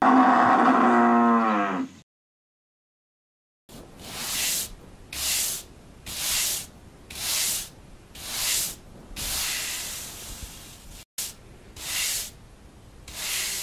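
A buffalo mooing on a village farm, a low moo at the start followed after a pause by a series of rhythmic hissing spray bursts, each about a second long.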